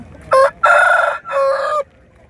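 A rooster crows once nearby at a weekly poultry market in Gudur, loud and clear, its call broken into three strained segments before fading to quiet.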